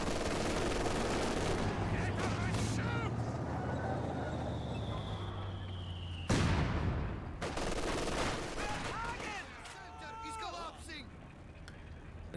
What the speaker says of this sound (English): The mortar is delivering blow after blow here.